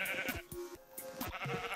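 Pink sheep in Minecraft bleat repeatedly, several short wavering calls following one another closely and sounding fairly near, with no talking.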